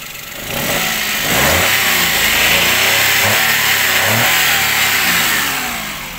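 Daihatsu Ayla car engine revving repeatedly in several rising bursts over a steady idle, loud and close, with no talking.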